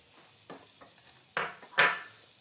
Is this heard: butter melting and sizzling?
yes